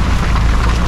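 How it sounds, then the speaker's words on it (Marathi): Heavy monsoon rain in the Konkan region beats down as a loud, dense, unbroken wash of noise for this short moment. "आता इकडे बघताय जोरदार पाऊस आहे एकदम"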